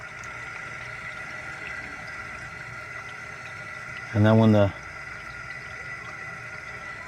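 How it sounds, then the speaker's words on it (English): Water rushes steadily into RV water filters through a freshly opened inlet, a constant hissing flow with a faint mechanical hum, briefly interrupted by someone speaking near the middle. "You can hear it, the water's coming in."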